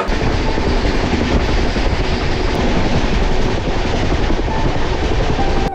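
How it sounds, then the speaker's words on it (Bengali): Passenger train from Howrah to Bolpur running on rails, heard from inside as a loud, steady rumble with rhythmic clickety-clack of wheels over the track joints throughout. "10টা 5 নাগাদ আমাদের ট্রেনটা ছেড়ে দিল"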